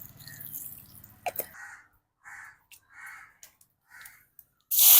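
Cooking oil poured into a hot pan while preparing a crab curry, heard as a few short, soft liquid gurgles and drips in quick bursts after a low hum fades, close by with no talking.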